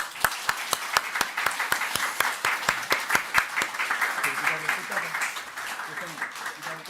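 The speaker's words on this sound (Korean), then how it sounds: "박수 한번 주세요." A round of applause at a church service with a few sharp, regular claps standing out at first, then blending into general clapping as voices murmur underneath.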